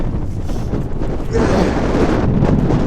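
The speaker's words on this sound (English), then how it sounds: "Wind's blowing straight into it." Strong winter wind gusting into a storm shelter pitched on a fell, a loud continuous roar and buffeting against the microphone that swells louder halfway through.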